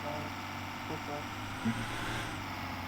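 A school bus engine drones steadily at close range, a continuous low rumble filling the cabin with no break, and a brief faint thump partway through.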